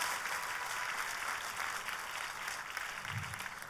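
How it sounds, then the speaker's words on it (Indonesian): Applause from a congregation during a church service, a steady wash of clapping held at a moderate, somewhat distant level for the whole stretch. "Kita berikan tepuk tangan yang paling meriah"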